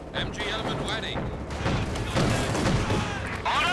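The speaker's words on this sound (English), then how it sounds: "Constantly pounding away with its autocannon and machine gun." Rapid bursts of autocannon and machine gun fire from a German Scout vehicle crackle through a Company of Heroes 2 1v1 match, mixed with booms and battle noise under continuous commentary.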